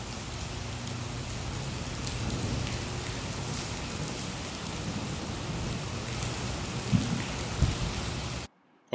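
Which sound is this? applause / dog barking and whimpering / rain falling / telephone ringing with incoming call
rain falling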